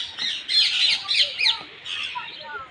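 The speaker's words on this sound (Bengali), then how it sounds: "সম্মানিত বন্ধুরা দেখুন বক দেখুন" Bird calls at Chittagong Zoo near Foy's Lake, where a heron is present: several bursts of high, scratchy squawks and chirps that are fairly close and loud, with a quieter stretch between them.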